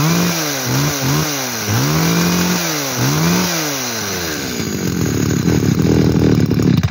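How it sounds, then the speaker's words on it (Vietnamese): A Japanese R22 chainsaw runs loud and close, revving up and down repeatedly in surges before settling into a steady, harsh roar. "Giờ 22 cưa này quá tuyệt vời nhá."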